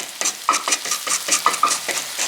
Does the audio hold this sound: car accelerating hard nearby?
no